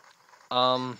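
A cucco chicken in Zelda: Ocarina of Time 3D gives a single short, bright, nasal squawk, heard clearly over faint background game sound.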